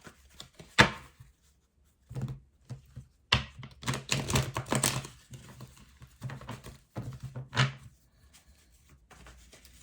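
Tarot cards are shuffled close by in irregular bursts of crisp riffling and tapping, with short quiet pauses between them.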